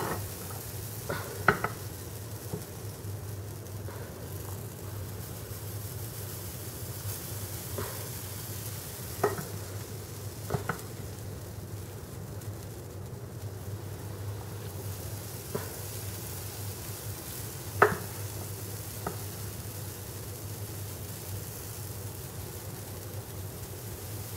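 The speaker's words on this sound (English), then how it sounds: "to pour the batter on the griddle" Whole wheat pancake batter cooks on a griddle with a quiet, steady sizzle, broken by a few sharp clicks and taps of a utensil scattered across the stretch, with no talking.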